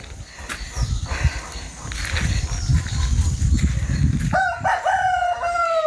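A rooster crows loudly and close by near the end, a rising multi-part call, after several seconds of outdoor rustling and clattering noise.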